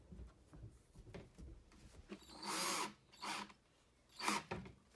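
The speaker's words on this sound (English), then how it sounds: "So we're gonna get this back in here, and we're gonna start to put the screws back." A power drill drives screws back into a DIY digital family calendar build, three short whirring bursts close by, separated by quieter handling noise.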